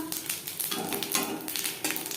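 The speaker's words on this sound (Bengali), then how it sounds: "কড়াইতে আবারও তেল দিয়েছি দিয়ে দিলাম একটা তেজপাতা" A bay leaf dropped into hot oil in a kadai, with potato and paneer fried in it earlier: a close, steady sizzle with bursts of crackling that swell and ease, no voices.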